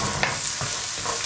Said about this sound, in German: kurz im heißen Öl liegen lassen und dann ein bisschen umrühren